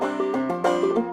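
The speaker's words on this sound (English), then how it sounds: "Without the drop thumbs, it sounds like this." A short melodic phrase played without drop thumbs, in a half Irish style: a handful of quick, bright plucked notes in a brief run, close and moderate in level, with no talking.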